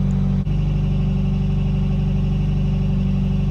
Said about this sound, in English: You now have cool intake noises.